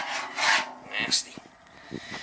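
A tool scrapes oily sludge from the bottom of a 275-gallon heating oil tank in short, rough rasping strokes. The scraping is close but fairly faint, and a few dull knocks come between the strokes.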